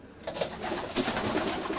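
Racing pigeons cooing inside a loft, a dense, continuous chorus of close, overlapping coos and soft warbles from many birds at once, with no talk.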